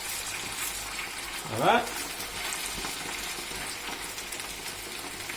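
Potatoes sizzle steadily in oil in a frying pan while being turned for a Spanish omelette, with a brief louder scrape and clatter of the turning partway through and a voice speaking briefly.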